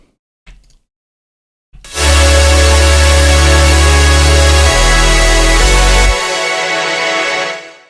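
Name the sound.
wide layered saw synth sound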